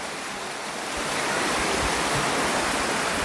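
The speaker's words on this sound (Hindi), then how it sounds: "पानी देखिए कैसे बह रहा है" Water pours steadily out of a temple pool (kund) at Galta Ji in Jaipur, a continuous broad rushing flow like a small waterfall that swells slightly louder after the first second, with no voices.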